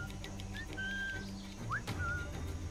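Whistling poison frogs call in a jungle in Assassin's Creed 4, giving thin, clear whistles and one quick rising chirp over a dense, steady wash of game ambience, moderately loud with no speech.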